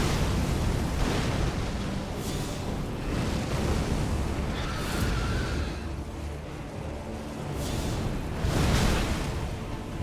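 A fiery explosion in Elden Ring during a pyromancy-only run: rolling, rumbling blasts that swell and fade in broad waves, fairly loud, with a couple of heavier surges near the start and end.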